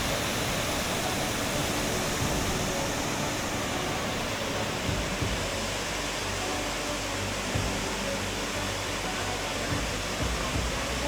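Rushing water of Cottonwood Falls in Nelson, British Columbia, a steady dense roar that holds evenly throughout with no breaks, like broadband noise from nearby falling water.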